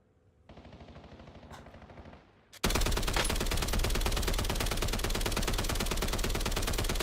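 Automatic gunfire in the video game Warzone erupts suddenly and loudly after a quieter start, dense rapid bursts continuing without pause to the end, with no voices over it.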